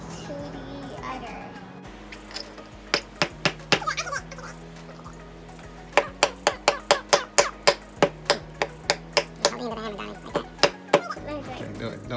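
Toy wooden pieces are being nailed together in a home craft session, with a series of sharp hammer strikes: a few spaced taps early on, then a quick steady run of about a dozen loud, evenly timed blows, with music or background sound beneath.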